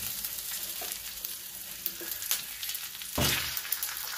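Curry leaves and a pinch of asafoetida crackle and sizzle in hot oil, a dense close hiss with spatula scrapes and stirring, and one louder burst of frying partway through.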